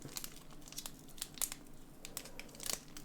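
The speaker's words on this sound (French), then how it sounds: "que je suis mauvais sur l'ouverture des boosters" Crinkly foil wrapper of a Pokémon Destinées Radieuses trading card booster pack being torn open by hand, close and fairly quiet, in a few short rustling rips and crinkles with no talking.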